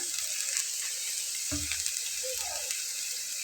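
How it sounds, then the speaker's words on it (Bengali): Chopped onion sizzles in a hot pan while it is stirred, a continuous frying crackle with a few scraping strokes of the spoon partway through, fairly close and without speech. "পেঁয়াজটা দিয়ে একটু নাড়াচাড়া করে নেবো"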